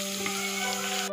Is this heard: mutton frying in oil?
yes